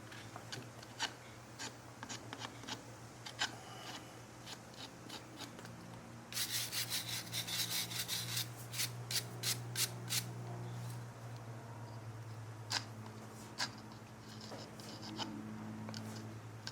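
Rasp or knife strokes work over the trimmed hoof of Ranger, a horse being readied for copper alloy shoes. The scraping is repeated and rhythmic over a steady low hum, growing louder and denser in the middle before easing back.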